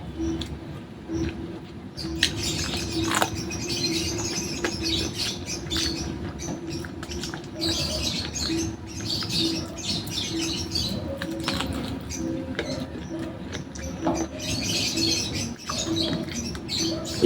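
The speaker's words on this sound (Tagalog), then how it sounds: "Ingay ng mga ibon ng mga idol sa taas." Small birds chirp and tweet overhead in an outdoor spot where chicken feet adobo is being cooked, with steady cooking and background noise and intermittent fluttering through the scene.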